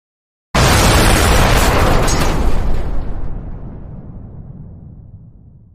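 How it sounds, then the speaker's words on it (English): A loud explosion erupts at once, a big broadband blast that holds for a couple of seconds and then slowly rumbles and fades away, with no other sound around it. "Good explosion on you."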